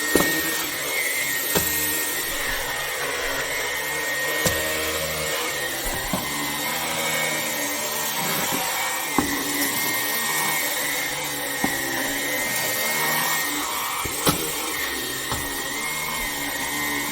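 A Vax Blade 4 cordless stick vacuum cleaner runs steadily and loudly for the whole stretch, a constant whirring motor drone with occasional sharp clicks and bumps as it moves over the floor.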